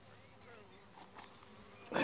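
Honeybees drone in a steady, close buzz at an opened hive of a weak colony, with a sudden louder rustle at the very end.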